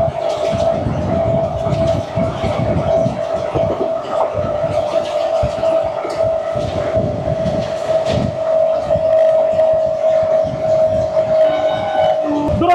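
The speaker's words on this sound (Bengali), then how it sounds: "পুরো দানবের মতো গতি নিয়ে ঘুরে আসছে দুরন্ত" Duronto Express rushing by at high speed, heard from another train: a loud, sustained rail roar with a steady whistle-like tone running through it and faint voices underneath.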